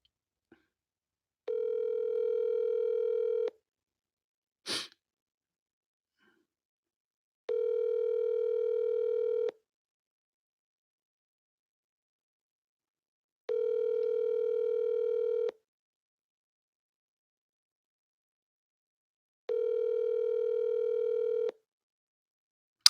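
A telephone ringback tone from an unanswered cold call to a real estate lead sounds four times, each a steady two-second electronic burr separated by silence, with one short sharp click early on.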